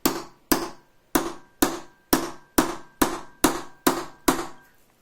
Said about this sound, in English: you need a hammer to actually get it in